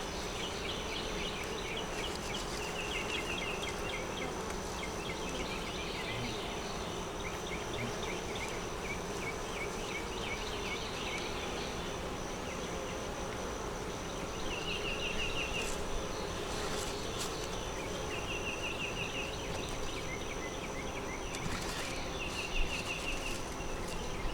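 Bees buzzing close around a hive, a continuous low drone with occasional higher whines as individual insects pass near, steady and fairly quiet throughout with no talking.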